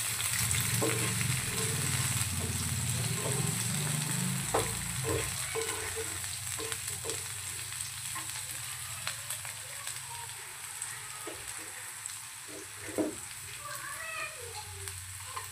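French beans shallow frying in a little oil make a continuous crackling sizzle, with scattered pops and a few utensil taps and scrapes in the pan over a low background hum, with no talking.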